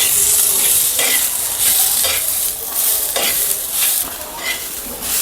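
Pigeon pea pods roasting in oil give a loud, steady sizzle, close by, with a stirring scrape roughly every second and no talking.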